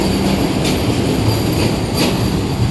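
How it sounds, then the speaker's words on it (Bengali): Loud, close rumbling of a long Vande Bharat superfast train rolling past at Kamakhya Junction, with steady rail noise and faint wheel squeal throughout. "একটা লম্বা আছে ট্রেনটা"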